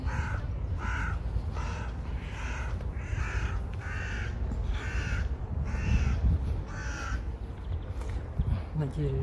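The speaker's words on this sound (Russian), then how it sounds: "На дереве сидят, вороны каркают." Several crows caw repeatedly from trees in a park in Moscow's Olympic Village, a steady run of harsh calls that stands out over a busy background of outdoor ambience.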